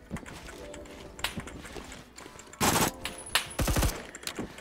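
Scattered gunfire in Roblox Phantom Forces, a few sharp shots and two loud bursts of rapid fire over a busy background of game noise and footsteps.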